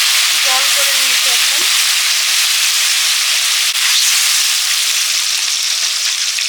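Mustard paste thinned with water hits a hot pan for a rohu fish curry, setting off a loud, dense, unbroken sizzle that fills the whole clip, with a brief voice murmuring underneath at the start.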